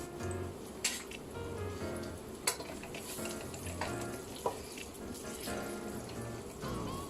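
Chopped medium onion sizzles steadily in about half a cup of hot oil in a pan, a continuous crackling fry broken by a few sharp clinks of a utensil against the pan.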